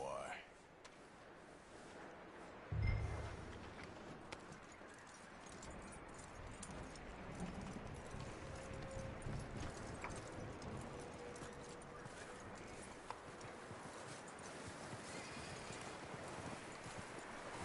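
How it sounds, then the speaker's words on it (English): Horse hooves clip-clop at a steady walking pace in Red Dead Redemption 2, faint and rhythmic beneath a soft ambient bed, with a dull thump early on and someone talking over it. "That looks like a decent horse."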